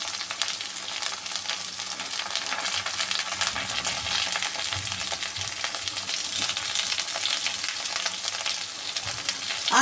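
Okra (bhindi) frying in a pan with chopped onion, an even, dense crackling sizzle held steady throughout with faint stirring underneath.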